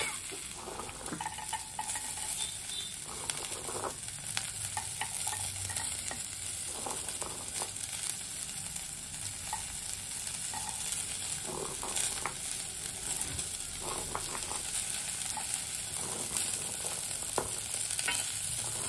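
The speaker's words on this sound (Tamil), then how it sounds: "இப்போ இந்த பயரை போட்டுக்கலாங்க." Butter beans tossed into a pan of softened frying onions sizzle steadily, with repeated scraping and stirring strokes of a spoon throughout, close and continuous.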